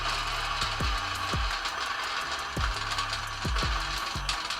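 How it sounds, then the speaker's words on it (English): A coffee grinder running at 800 RPM with a CremaLoop slow feeder: a steady grinding whir is broken by sharp, rattling clicks as beans drop in, about seven of them at uneven intervals, close and moderately loud. "At 800 RPM, you can hear complete grinding in between each drop"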